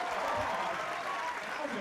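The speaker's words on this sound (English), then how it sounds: "Please give yourself a round of applause for my cover." Convention panel audience for a Walking Dead Season 2 panel applauds, a short burst of crowd clapping at moderate distance, steady and dense for under two seconds.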